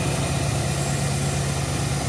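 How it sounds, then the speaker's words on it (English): A big block car engine idles steadily and close by, with a continuous low rumble and no speech over it. "We gonna check the engine right now. Y'all hear it run good"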